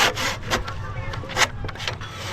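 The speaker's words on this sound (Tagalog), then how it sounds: "Lagari, lagari." A hand saw that has gone long unsharpened cuts through wood in rhythmic back-and-forth strokes, close and rasping, with no talk over it.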